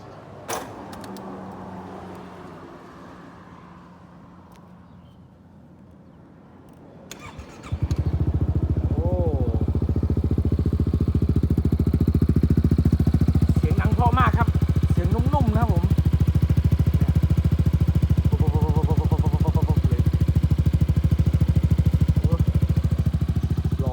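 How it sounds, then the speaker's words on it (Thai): A motorcycle cranks and fires up, then settles into a loud, steady exhaust rumble with a few revs blipping over the idle. "อยากฟังเสียงท่อไหมครับ เดี๋ยว ฟังเสียงท่อดูเนาะ เดี๋ยวจะสตาร์ท"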